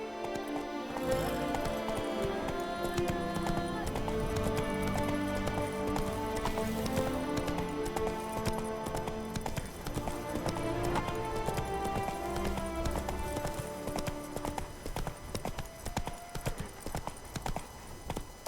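Hooves clip-clop at a steady galloping rhythm as a horse runs in The Witcher 3 video game, heard under a layered orchestral music score with no speech.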